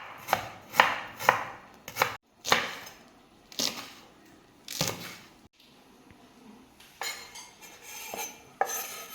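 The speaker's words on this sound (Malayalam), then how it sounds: "പച്ചമുളക് അരിയേണ്ടി വരും അല്ലേ" A knife chops green chillies on a board for a green gram dish, giving a close run of sharp, fairly rhythmic chops in bursts with short pauses and no talk.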